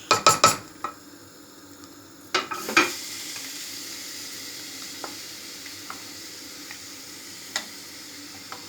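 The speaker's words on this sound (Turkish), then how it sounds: "Kaynayan çorbamıza en son tuzumuzu ve yağımızı döküyoruz" Salt and oil poured into boiling bone-broth soup: a few sharp clatters open, then a steady close hiss of sizzling with scattered light clicks, no voices.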